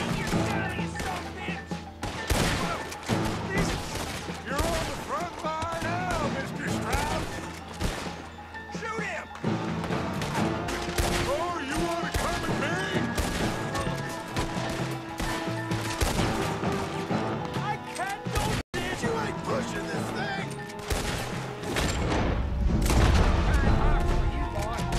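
Rapid gunfire crackles and booms through a Red Dead Redemption 2 town shootout, with repeated sharp shots and crashes layered over a busy mix and bursts of talking throughout.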